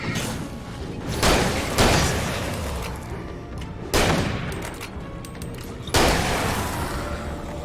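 Shotgun blasts in Alan Wake: several loud, sharp booms a second or two apart, each trailing off in a rumbling decay over a constant low background.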